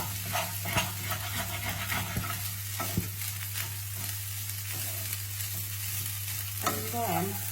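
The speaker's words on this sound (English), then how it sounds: "And then you just mix that all into the rice" Scrambled egg being stir-fried into salmon spring fried rice in a hot pan, a constant sizzle broken by repeated scraping and tossing strokes of a spatula, close and fairly quiet with a low steady hum underneath.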